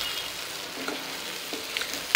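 Coriander, green chilli and garlic sautéing in hot oil for a spinach amti, a steady soft sizzle with faint stirring scrapes, close and continuous with no voices.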